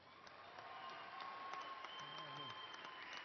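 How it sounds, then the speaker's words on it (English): Applause from the audience at an Angelo State University fall commencement ceremony after graduates' names are read, a steady wash of clapping that holds at moderate level through the whole clip, with faint crowd noise beneath. "Please honor these graduates with a round of applause."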